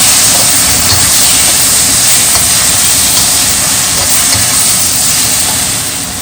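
Tofu and mixed vegetables with ginger being stirred in a hot pan, a loud, steady sizzling hiss with faint scraping and tossing sounds throughout, easing slightly at the end.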